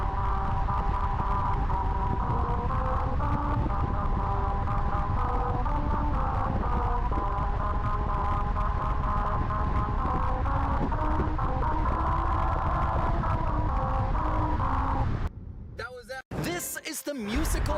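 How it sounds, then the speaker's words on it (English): Tires of a car rolling over an out-of-tune musical highway's grooves produce a loud, droning, buzzing melody of shifting pitches that runs continuously, then cuts off abruptly into brief rumbling noise. "each groove was made a fraction of an inch off, so the entire thing is out of tune and sounds like this"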